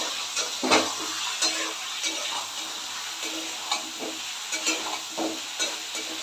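Soybean curry with cashew paste being stirred in a pan: a steady hiss of sizzling under repeated scraping strokes, with a few louder knocks of the spoon against the pan and no talking.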